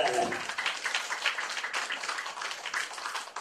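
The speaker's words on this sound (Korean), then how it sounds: "박수" A congregation at a revival meeting in a Suwon church breaks into sustained applause, many hands clapping in a dense, even roar that stays at steady volume throughout.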